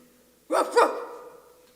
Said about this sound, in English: it is only the barking of the dog who lives in this house